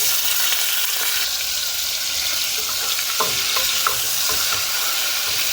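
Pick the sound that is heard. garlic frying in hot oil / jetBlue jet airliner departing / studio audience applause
garlic frying in hot oil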